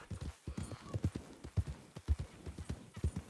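Horse hooves clip-clopping in the video game Red Dead Redemption II, a steady run of close, punchy hoofbeats across the whole stretch with no voices over it.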